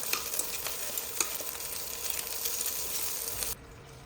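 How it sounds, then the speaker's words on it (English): Steady loud sizzling of ribs stir-frying in hot oil with shallots, with occasional scraping stirs, continuing for several seconds before cutting off abruptly. "Stir-frying the meat first, make it firm and coat it in that incredible shallot aroma"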